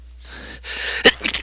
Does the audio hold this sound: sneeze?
yes